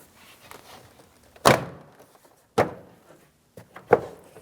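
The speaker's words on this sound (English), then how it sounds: "you can tap the door panel in towards the door" Three solid knocks at uneven intervals, each a short dull thump as a door panel is tapped into place on a 2007-2014 GMC Sierra 2500 HD truck door, with quiet gaps between them.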